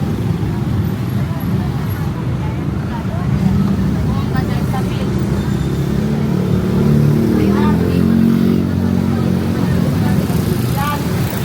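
Busy late-night street traffic on Fields Avenue on a weekend, a constant loud roar of passing cars and engines with crowd noise and voices mixed in.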